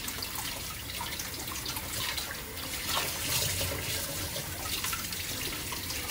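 Tap water runs steadily into a kitchen sink while food is washed, a continuous close splashing rush with small fluctuations and no talking.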